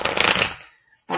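Tarot cards riffle in a quick, loud shuffle lasting about half a second, then a brief near-silent pause before a second burst of shuffling begins.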